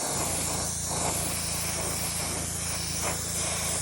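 An airbrush held fairly far back sprays paint onto a Bandai 1/500 Space Battleship Yamato model, a steady close hiss that runs unbroken and even throughout.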